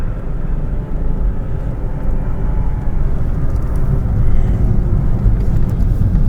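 Car with four massive exhausts and big rear wheels driving a mountain pass near Col de la Bonnette: a loud, continuous low engine and exhaust rumble heard from close behind, swelling slightly midway, with no voices.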